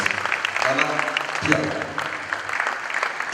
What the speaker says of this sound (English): A round of applause for success.